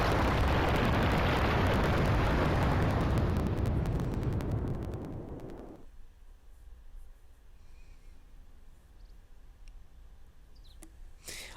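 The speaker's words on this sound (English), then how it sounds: "she summons Titan, who promptly destroys the environment" Titan's summon in Final Fantasy IV DS tears up the environment with a loud, roaring rumble of explosive destruction that fades sharply after about six seconds into quiet, leaving faint scattered game sounds.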